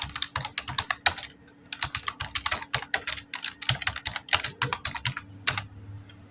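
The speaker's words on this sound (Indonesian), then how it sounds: "Kita ketikkan no ke samping kanan." Computer keyboard typing while entering table data, a close, steady stream of crisp key clicks in quick irregular bursts with short pauses.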